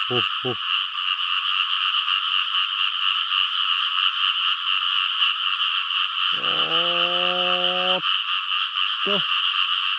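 Frogs croak loudly over a constant high chorus of insects or frogs, with a few short raspy calls at the start, a longer droning croak in the middle and one more near the end.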